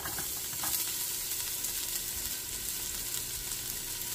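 Garlic sautés in a pan, a faint, steady hiss of sizzling with a few soft scraping clicks, no talking.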